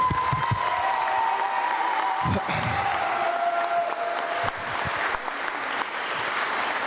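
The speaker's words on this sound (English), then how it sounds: "give her an applause for that, actually, for that decision" Audience at a basketball fifth-years' ceremony applauding the team captain, clapping that builds and carries on steadily, with a few louder knocks and some background voices mixed in.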